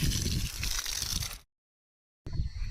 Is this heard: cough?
no